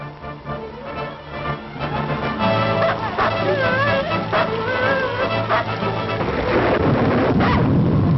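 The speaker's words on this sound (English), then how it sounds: "you don't want to go out in that old storm." A storm with rolling thunder sounds through an opened door in a 1938 Yukon adventure film, a loud, steady roar that builds toward the end, mixed with wavering tonal sounds.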